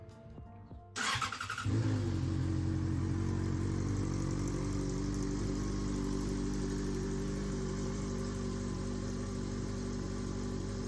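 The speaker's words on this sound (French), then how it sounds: "Je vais vous la démarrer. On va écouter un petit peu le son de cette fameuse moto." A Yamaha XJ6 motorcycle engine, on a wrecked bike, cranks and fires up after a second, then settles into a steady, throbbing idle close by.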